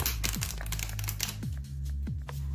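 Gothic tarot cards being shuffled by hand: a series of crisp papery riffles and snaps, several quick bursts with short pauses between, close up over a low background hum, with no talking.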